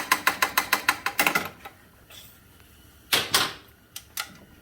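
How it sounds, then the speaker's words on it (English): A 7/16 wrench ratchets while tightening a tapered pipe plug: a quick run of about a dozen sharp, close clicks, then a pause and a few more scattered clicks and clunks. "Take the 7/16 wrench, Just give it a quarter turn just for giggles."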